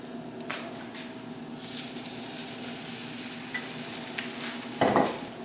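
French toast frying in a pan with a soft, steady sizzle, a few faint clicks and a louder brief scrape or clatter near the end, no voices.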